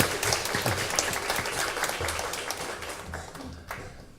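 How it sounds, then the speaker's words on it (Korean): A church congregation applauds during a Sunday morning service, a steady wash of many hands clapping at moderate distance that holds evenly for several seconds with no speech over it. "우리 주님께 영광의 박수 한번 돌리시죠."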